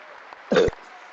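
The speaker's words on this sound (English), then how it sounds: "I just burped on love YouTube." A single short burp sounds close and fairly loud, over quiet background.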